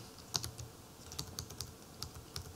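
Typing on a computer keyboard while entering a SelectList formula in Quantrix Modeler, a quiet, close run of irregular key clicks in short bursts with no talking.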